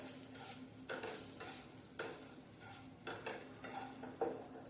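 Jaggery-sweetened vermicelli kheer with raisins stirred in a pot, giving a series of soft scraping strokes, roughly one per second, close and fairly quiet with no talking.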